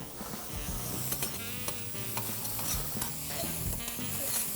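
Garlic and tomato fry in a hot pan for shrimp scampi, a steady dense sizzle with scraping, clinking stirs of a utensil against the pan throughout, close and continuous.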